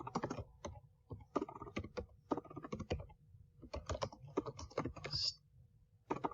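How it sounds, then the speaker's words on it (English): Typing on a computer keyboard, irregular bursts of close, crisp key clicks with short pauses between runs, fairly quiet and without talking. "I can't type again because this keyboard, I'm not used to it yet."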